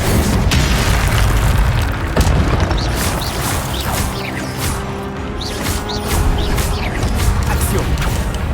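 In a Harry Potter video game, the Expelliarmus spell is cast in a continuous stream of loud booming, crackling magical blasts with repeated sharp bursts over a dense rumbling background.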